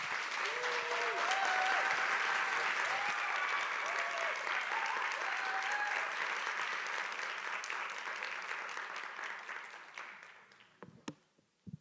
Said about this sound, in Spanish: Les pido por favor que reciban con un aplauso a Jorge Caraballo